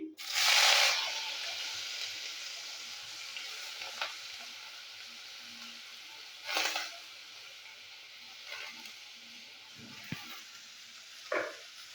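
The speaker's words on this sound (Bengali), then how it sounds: "তো এবার এই তেলেতেই আমি একটু আলু ভেজে নিচ্ছি।" Potatoes frying in oil left over from frying lentil dumplings: a loud sizzling burst as they go in, settling into a faint, low hiss broken by a few brief stirring scrapes.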